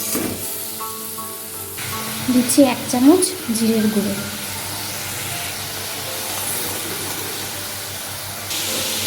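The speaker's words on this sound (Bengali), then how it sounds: "সামান্য জল দিয়ে মশলাটা কষিয়ে নিচ্ছি" Spice paste frying in a kadai with a little water, a steady hissing sizzle that runs under a voice throughout, with clinks of stirring and a louder burst of activity in the middle.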